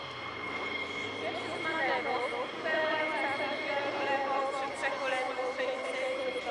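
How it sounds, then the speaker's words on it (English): A PZL M28B Bryza twin-turboprop light transport, a Polish development of the Antonov An-28, drones steadily during an airshow flying display in Radom, a continuous engine hum under a commentator's talk. "Our final Polish Air Force display for now comes from an M28B Brisa."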